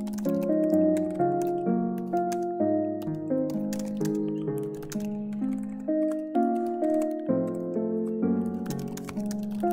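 Code being typed on a computer keyboard for a Discord.js bot, quick irregular key clicks pattering close under a steady bed of background music, with no talking.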